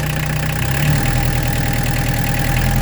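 A Peugeot 205 TD diesel engine with a Motorpal 4M injection pump runs close and loud, its clattering idle rising to a revved, rougher pulse partway through and holding steady, with no talk.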